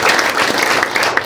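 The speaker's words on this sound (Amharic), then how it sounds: "በጣም ጥሩ አጨብጭቡ" A church congregation claps loudly and close up after a donation is announced, with dense overlapping hand claps filling the space in a brief continuous burst.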